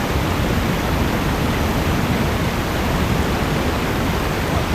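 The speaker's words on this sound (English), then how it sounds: "You can't probably barely hear me over this waterfall." Loud, steady roar of the Lyndelby Waterfall, a dense broadband wash of falling water that stays even and close throughout with no break or other sound.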